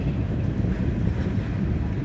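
Strong wind buffets the microphone outdoors during a snow squall beside a railway line, a continuous loud low rumble with no break.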